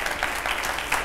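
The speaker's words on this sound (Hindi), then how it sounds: "जोरदार तालियां हो जाए।" Studio audience applause on a TV9 Bharatvarsh talk show, greeting Bhojpuri superstar and Gorakhpur MP Ravi Kishan: a steady, dense wash of clapping, moderately loud and continuous through the moment.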